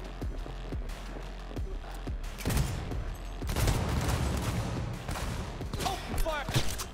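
Gunfire rattles in Cyberpunk 2077 as scattered single shots, then dense overlapping bursts of automatic fire in a street firefight, loud and close, with voices talking over part of it.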